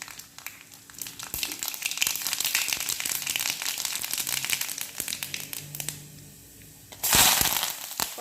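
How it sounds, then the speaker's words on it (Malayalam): Mustard seeds pop and splutter in hot coconut oil in a pan, a dense run of close crackling with a sharper, louder burst toward the end. "നമുക്ക് ഇതിലേക്ക് കടുക് ഇട്ട് കൊടുക്കാം."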